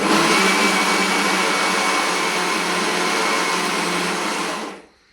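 A mixer grinder grinds soaked idli rice into batter, a loud steady whirring motor drone running continuously before switching off and cutting out near the end, with no talking.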